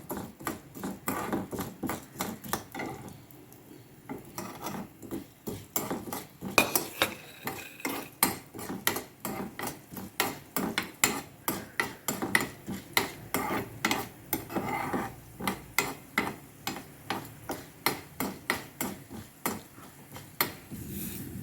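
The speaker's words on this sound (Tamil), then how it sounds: "இப்போ மற்ற எல்லா இன்க்ரீடியன்ஸும் போட்டு வறுத்துக்கணும்" A spoon scrapes and taps rhythmically against a pan as urad dal and spices are roasted for ground-masala sambar, with close, even metallic strokes throughout and no voices.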